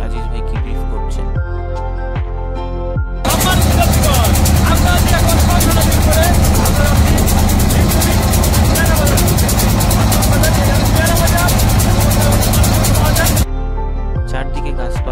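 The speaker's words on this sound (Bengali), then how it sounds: "চারদিকে তখন ইঞ্জিনের আর পানির শব্দ" A trawler on a river in Bangladesh rumbles steadily with loud engine drone and churning water, running continuously for about ten seconds between quieter stretches at the start and end.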